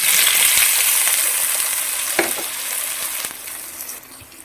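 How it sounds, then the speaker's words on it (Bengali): Boiled potatoes sizzle in hot oil with bay leaf and cumin, giving a bright, constant frying hiss up close, broken by a couple of sharp utensil taps, and the sizzle eases slightly toward the end. "ফোড়নটা একটু ভাজা ভাজা হয়ে গেলে এর মধ্যে সেদ্ধ করে রাখা আলুটা আমি দিয়ে দেবো"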